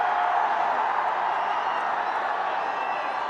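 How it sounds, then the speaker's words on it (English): A cricket stadium crowd stirs into a broad, steady roar and cheer as fielders appeal, a wash of distant voices and scattered clapping sustained across the moment. "Saha is appealing. The crowd are suddenly awake."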